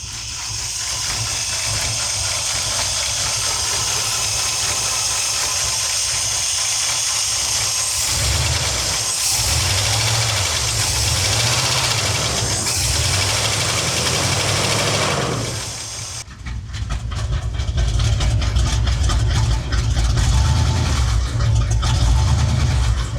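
A 1970 Chevy C20 truck engine idles steadily with a rough, low mechanical rumble and ticking, its carburetor recently flooded and steaming; a brief dip near the middle is followed by a louder, fuller run.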